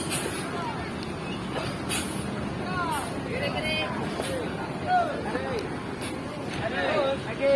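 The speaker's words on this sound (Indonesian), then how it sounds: "Inilah keadaan terminal Pondok Pinang Lebak Bulus." Busy intercity bus terminal at Pondok Pinang, Lebak Bulus, Jakarta, with a steady rumble of idling buses and traffic, occasional hissing bursts like air brakes, and a murmur of crowd voices throughout.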